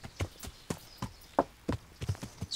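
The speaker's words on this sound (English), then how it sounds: "Let's quietly go in there with the horse." Horse hooves walk in the video game Kingdom Come Deliverance, giving a steady, evenly spaced clip-clop of distinct thuds, close and clear with no talk over them.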